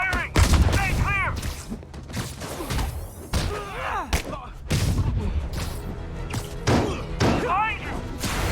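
Gunfire in the Spider-Man video game on PS4 Pro: repeated bursts of shots and heavy impacts throughout, loud and close, mixed with in-game voices calling out.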